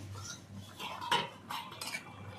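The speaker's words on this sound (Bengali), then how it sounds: "ঢাকনা নামিয়ে নেব দেখো" A metal lid lifted off a cooking pot of potato and fish curry with coriander leaves, giving a few light clinks and scrapes close by, with the loudest clatter near the middle, over a steady low hum.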